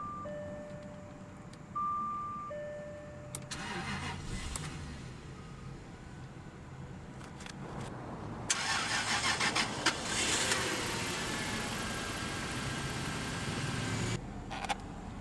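2001 Jaguar XJ8 Vanden Plas sedan: a few chimes and beeps, then the engine cranks and catches with a brief flare before settling into a steady idle, close and clear.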